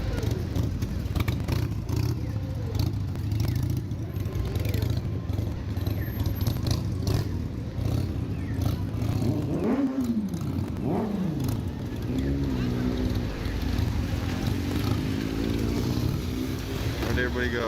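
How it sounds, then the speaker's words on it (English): A motorcycle engine revs up and down repeatedly at a street scene, rising and falling under a rumbling background with rattles and people talking nearby. "What's wrong with that bike? Keeps revving up, Andy."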